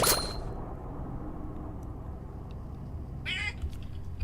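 A phone notification chime goes off during a live stream: a short bright tone at the very start, then a brief burst of clinking, chiming tones near the end over steady low background noise, with no talking.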